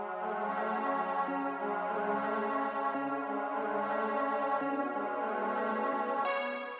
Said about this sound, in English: The pad sounds like this.